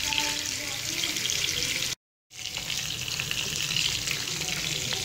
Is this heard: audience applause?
no